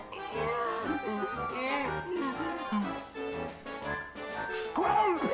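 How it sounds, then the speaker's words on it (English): A dog barks repeatedly in the Chibi-Robo! video game, with yips and bow-wow calls woven through a dense, continuous layer of game music. "Time to call Tao! Bark for us!"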